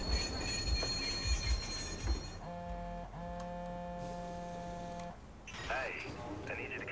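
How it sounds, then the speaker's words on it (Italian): A tram runs on rails in the video game Watch Dogs, with low rolling rumble, a few knocks, then sustained tonal wheel squeal in two long stretches, ending in a brighter screech. "Voglio prendere il tram."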